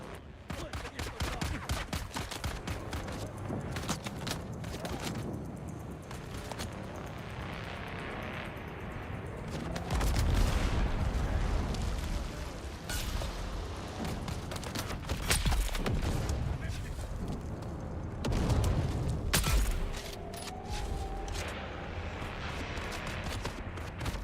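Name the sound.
sniper rifle gunfire in the video game Dune: Awakening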